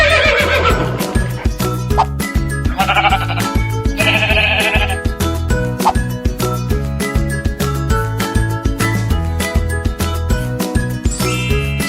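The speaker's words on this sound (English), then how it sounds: "Sheep." Sheep bleat in a children's animal-sounds learning segment, short wavering calls sitting on top of a loud, continuous musical accompaniment with tinkling notes.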